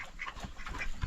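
Farm ducks kept together with chickens and pigs give soft, close quacks over a low rustling background.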